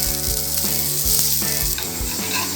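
Oil poured around a drumstick-leaf adai in a hot pan sets off a continuous sizzle, with soft rhythmic scraping or ticking on top and no voices.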